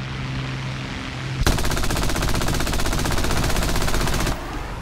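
Machine guns of an I-15 fighter plane in the War Thunder air combat game fire in one long, loud, rapid sustained burst of about three seconds, following a steady engine drone.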